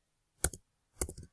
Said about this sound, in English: If you were hearing those like typing noises